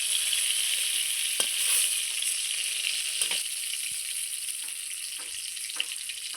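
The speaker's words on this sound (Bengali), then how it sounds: "তেলের মধ্যেই আমি ফোড়নে দিয়ে দিচ্ছি 2টো ছোট ছোট তেজপাতা, 5 ফোড়ন দিচ্ছি সম্বারা।" Two small bay leaves and Bengali five-spice sizzle steadily in hot oil as tempering for a fish and bottle gourd curry, with a few sharp crackles and pops breaking through the even hiss, close and alone with no talk.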